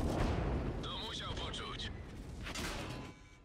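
Tank cannon fire and shell hits in the video game World of Tanks sound as deep booming blasts and rumbling impacts under someone speaking, with a brief whistling tone in the middle.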